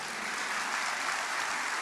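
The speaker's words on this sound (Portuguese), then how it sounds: "Irmãos, vamos aplaudir o Rei dos Reis" Church congregation applauding during a sermon, a dense, even wash of many hands clapping steadily throughout, fairly close and full with no speech over it.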